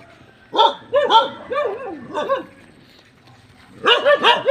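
A dog barks in short bursts, a few quick yips, a pause, then another rapid string of barks nearby.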